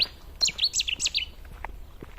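Several small birds chirp and tweet in quick, high bursts out in the open Camargue countryside, bright and fairly close over a low rumble, with no talking.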